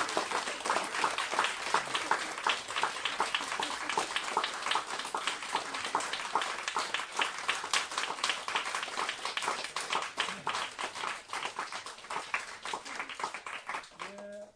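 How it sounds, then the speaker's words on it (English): Applause from an audience at a sun ceremony, a dense, steady wash of many hands clapping that carries on for the full stretch at moderate level, with a brief voice near the end. "please give a big applause"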